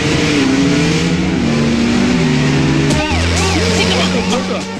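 A car engine revs loudly up close, its pitch climbing and then dropping before surging again, while voices shout over it.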